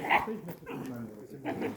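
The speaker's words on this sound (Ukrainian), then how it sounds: "І повно собак." A dog barks a few times amid background chatter and bustle, with people talking nearby outdoors at the gate to the aqueduct bridge in Spoleto, where many dogs are about.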